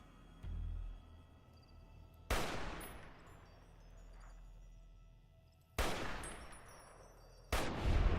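Gunfire in Fallout New Vegas: three loud, sharp shots spaced a few seconds apart, each with a long decaying echo, over a low rumbling background with no talk.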